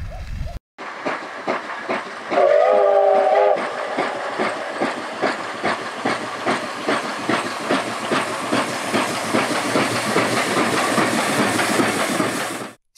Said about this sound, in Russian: знаменитый Рускеальский экспресс – паровозик, который курсирует из Сартовалы в Рускеалу и обратно